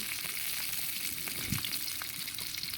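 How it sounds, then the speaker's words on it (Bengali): Sliced green chillies, garlic and onion frying in oil in a wok, a steady, even hiss of sizzling oil with faint crackles, heard alone. "কাঁচামরিচ রসুন এবং পেঁয়াজ ফালি করে কেটে রেখেছিলাম সেগুলো এখন হালকা আজে ভেজে নেব"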